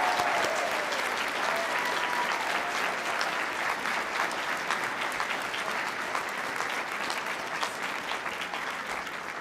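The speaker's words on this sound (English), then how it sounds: "please join me in a huge, loud round of applause for your families, your friends, everyone who made today possible" A large crowd at a law school commencement ceremony bursts into loud, sustained applause, thick continuous clapping that slowly tapers over nearly ten seconds.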